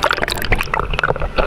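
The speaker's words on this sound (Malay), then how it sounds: "sekarang tengah snorkeling" Sea water bubbles, gurgles and splashes around a snorkeler swimming off Manukan Island in Sabah, loud and close, with busy churning and sloshing throughout.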